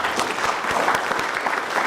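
An audience at a Meru University of Science and Technology international conference applauds the chairman of council, with dense, steady clapping from a large crowd filling the whole moment.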